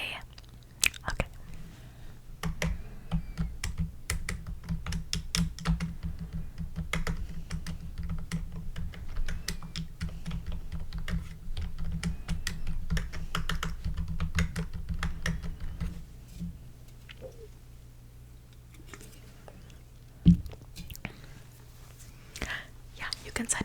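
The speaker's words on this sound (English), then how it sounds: "I'm gonna go ahead and write you this email" Fingers typing an email on a computer keyboard, rapid close key taps in a soft steady run that slows near the end, with a whispered voice at times.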